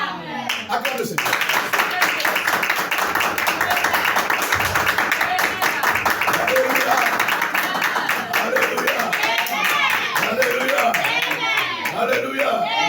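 A church congregation claps rhythmically and cries out in acclamation, a dense, lively crowd sound that runs throughout with voices mixed in.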